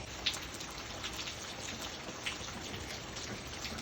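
Light rain falling with strong wind, a steady broadband wash of gusting air and patter throughout, with a couple of sharper drop taps near the start and middle.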